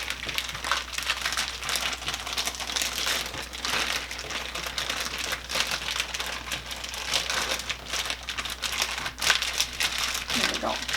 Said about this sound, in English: zip up your bag, make sure it's nice and closed and tight. And then we're just going to mix all this up